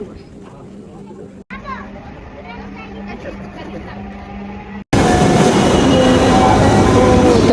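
A metro train ride with steady rumbling and rail noise that gets louder near the end, while nearby voices chatter and children can be heard.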